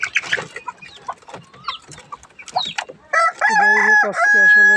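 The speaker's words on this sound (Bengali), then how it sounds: "এই যে আমার মুরগিগুলা" Chickens and a rooster on an agro farm, with scattered clucks early on, then a loud, sustained crowing call that fills the last second and a half.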